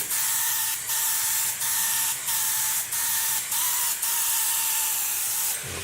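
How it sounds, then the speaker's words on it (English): Glass separator sprayed onto a table in a series of close, hissing bursts, about seven in a row with short pauses between them and no talking. "some of y'all are going to notice I'm spraying on this table here"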